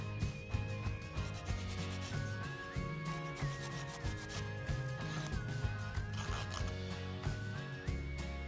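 A nail buffer rubbing back and forth over a thumbnail during a manicure. Soft, steady, close scrubbing strokes continue throughout, under faint background music.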